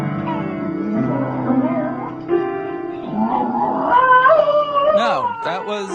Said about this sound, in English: No, that was a video of a dog playing the piano.